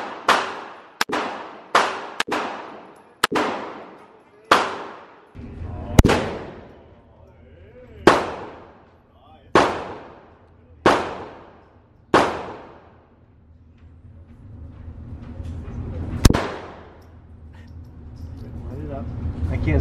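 A gun fired outdoors, sounding as a string of about a dozen sharp, loud shots with decaying tails, spaced roughly a second apart at first and then more sparsely, with rumbling background noise in the later part.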